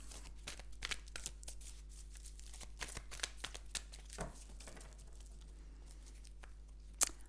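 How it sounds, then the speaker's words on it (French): Playing cards are handled and cut in a quiet room, giving soft papery flicks and shuffling riffles with a light snap near the end. "on va se faire comme tout à l'heure une petite coupe"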